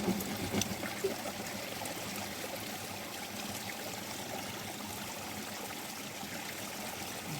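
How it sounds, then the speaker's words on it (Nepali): A small hill stream in Nepal, where fish are being caught, flows with a faint, steady trickling rush that stays even throughout, with a few light splashes near the start. "सानो खोला माछा खानु पाइन्छ भने यही होला"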